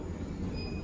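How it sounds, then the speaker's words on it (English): A Schindler lift at IKEA Belfast starts moving upward, giving a steady low motor and cabin hum with a faint high whine rising briefly over it, heard alone. "Lift going up."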